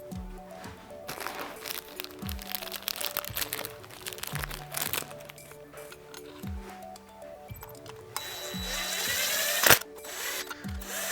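A ratchet tightening oil pan bolts on a Honda J35 engine, with repeated bursts of rapid clicking separated by short pauses, close and crisp, plus a sharp metallic clank near the end.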